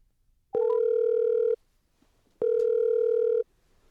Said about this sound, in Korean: 전화 연결해 보겠습니다